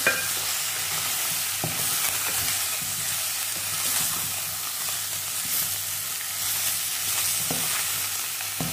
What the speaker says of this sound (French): Voilà mon poisson que je fais cuire un peu.